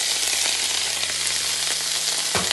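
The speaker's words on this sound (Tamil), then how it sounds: "அதை இப்போ ஆட் பண்ணி நல்லா சாட்டே பண்ண போகிறோம்." Boiled cauliflower and potato pieces are sautéed in a hot pan for a vegetable gravy, producing a steady, loud frying hiss with faint stirring scrapes underneath and no talking.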